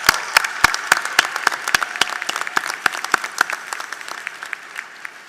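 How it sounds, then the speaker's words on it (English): Audience applause for graduates at a university commencement ceremony, a steady crowd of clapping hands with sharp individual claps standing out nearby, fading slightly toward the end. "Please join me in a round of applause for all of you."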